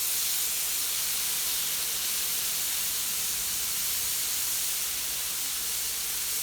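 Tomato dropped into a hot pan, giving a steady, even sizzling hiss that holds at a constant level throughout, close up and with no talking.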